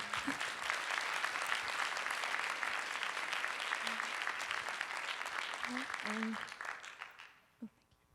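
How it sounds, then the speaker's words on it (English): Audience at a student fellowship awards session claps in a full, even burst for about seven seconds, then tapers off quickly into quiet with a voice or two at the end. "we'd love to give a big round of applause for yourselves as well"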